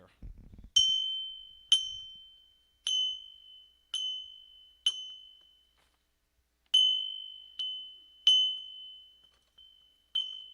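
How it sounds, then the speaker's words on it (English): A small bell given as a Father's Day gift rings in a series of about nine clear, bright dings spaced a second or so apart, each ringing out and fading, with a brief low rumble at the start. "And here's the bell ring for Sarah."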